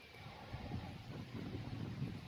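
Low, steady rumbling wind buffets the microphone, with gusty surges throughout and no voices.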